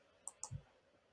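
Two quick, faint clicks from a computer mouse button in a quiet room, followed by a soft dull knock.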